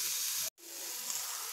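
Chicken tikka cooking in a hot pan gives a steady, close hissing sizzle, broken by a split-second pause before resuming.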